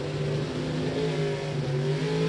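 A Comp Eliminator drag racing car idles loudly and steadily while rolling up for a qualifying run at a drag strip, its engine note holding a rough, continuous drone throughout.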